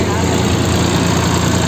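A 55 hp John Deere 5310 tractor's diesel engine running close by, a loud, steady low rumble with no break across the short stretch.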